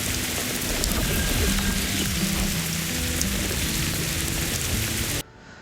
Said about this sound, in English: The rain effects in particular actually felt pretty authentic, like I needed to blink hard to get raindrops out of my eyes.